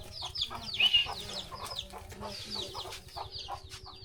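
Several chickens that have wandered into a rural household cluck and squawk close by, with short, irregular calls that repeat throughout over faint background activity.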